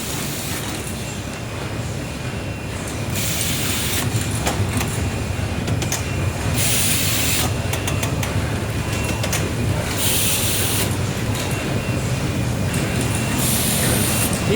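A rigid box making machine runs while applying white glue to paper, a loud continuous mechanical rumble with rhythmic clanking and bursts of hissing air from the machinery, heard close with no talking.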